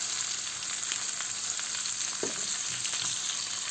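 Garlic prawns with paprika sizzling steadily in a hot pan while being stirred, a constant close frying hiss with a brief scrape of the utensil partway through; no voices.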